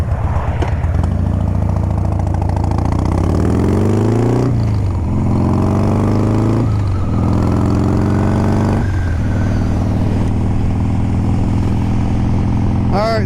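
A loud motorcycle engine runs close by while riding, with repeated rev rises and drops through gear changes, a throaty roar throughout and no speech.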